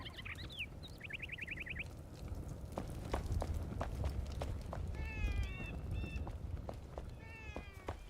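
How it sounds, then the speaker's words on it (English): Several cats meow in a real room while game sounds continue in the background, with rapid trilling chirps, footsteps and repeated warbling calls mixed over a steady low hum. "I'm getting bombarded by cats in real life and cats in the game."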